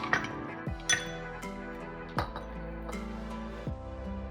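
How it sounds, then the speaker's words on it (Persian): Two ice cubes drop into a bowl of ground saffron and sugar, giving a few sharp clinks and knocks spaced over several seconds, close and fairly quiet, with no talking. "بعد 2 تا قالب یخ میندازم روش"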